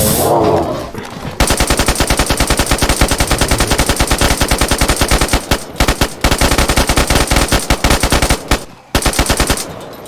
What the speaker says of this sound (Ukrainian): Опять мене пулями стріляють.